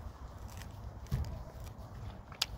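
A person bites and chews very hard food up close, with faint crunching bites and one sharper crack near the end, set against quiet room noise.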